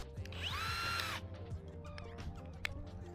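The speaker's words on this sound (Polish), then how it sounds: "Wywierciłem otwory pod nitonakrętki wiertłem 13" A power drill with a 13 mm bit bores holes for rivet nuts in a camper roof for a solar panel mounting frame, a single loud whining burst of about a second that then stops, leaving quiet clatter.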